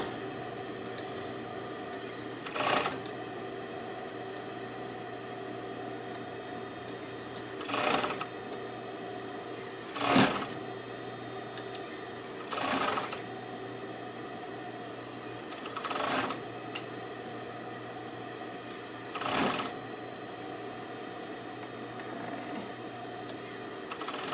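A sewing machine stitches a stuffed animal's foot onto its body in about seven short, separate bursts spaced a few seconds apart, each a brief whir that stops, with a quiet background between them.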